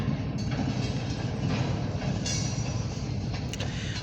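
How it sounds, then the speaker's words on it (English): A short grain hopper freight train rolls past steadily at a distance in Meadville, Pennsylvania, with a continuous rumble and faint wheel clatter throughout. "Really short grain hopper it is."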